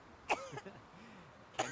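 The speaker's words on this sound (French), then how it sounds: "Pourquoi je tousse?" A character in the video game inZOI coughs and clears its throat in a couple of short, soft bursts over a quiet background.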